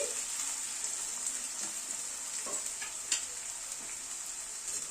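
Onions frying in a pan over a medium gas flame give a soft, even hiss with occasional faint pops and light stirring taps, quiet and steady without speech.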